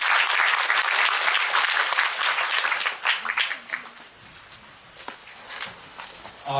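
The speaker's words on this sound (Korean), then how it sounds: "여러분 큰 박수 부탁드립니다" An audience at a talk concert in Mapo claps as a lawyer is introduced. The applause is dense for about three seconds, then thins to scattered claps and footsteps.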